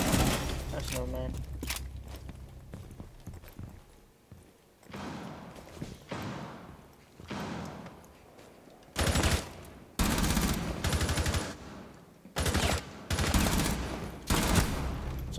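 Repeated bursts of gunfire from Rainbow Six Siege, loud broadband volleys coming in clusters through the second half, with quieter thumps and movement earlier and a voice talking over parts of the match.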